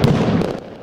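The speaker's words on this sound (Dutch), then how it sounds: "Daar brak een hels vuurwerk los ter ere van Las Fallas." A firework bursts at Las Fallas in Valencia's town hall square, a loud close blast followed by quick crackling pops that trail off within a second.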